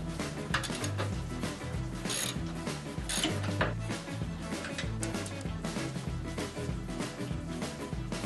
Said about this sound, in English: I'm going to pull off those bolts on the idler arm